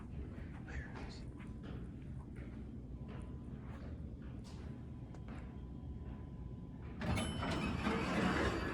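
A Dover hydraulic elevator arrives in a building lobby after faint mechanical clicks and a quiet hum, then its doors slide open with a louder rush and rattle near the end.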